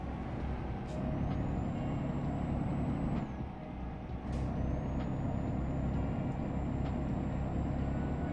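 A truck's air brake hisses twice in Euro Truck Simulator, each a sustained high hiss with rising tone over a steady rumbling engine and road noise, with no talking.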